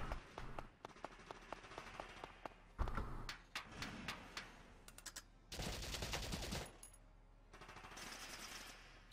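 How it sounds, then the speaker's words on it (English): Valkyria Chronicles game combat fills the mix with rapid gunfire: bursts of automatic shots, sharp single cracks and a dense crackling volley, fairly close with thuds between. "Shots."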